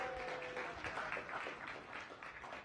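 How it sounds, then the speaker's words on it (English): Audience applause at a Science Cafe talk, welcoming first-time attendees; a steady, fairly soft patter of many hands clapping for under three seconds, with no speech over it. "Give them a round of applause."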